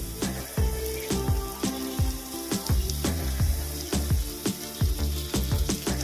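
Food frying in a pan for fish-head muri ghonto with tomato and salt gives a steady loud sizzle, broken by repeated sharp clacks of a spoon stirring against the pan, close and without speech.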